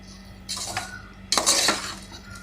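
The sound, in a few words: mixing roasted rice with gravy in a pot for channa biryani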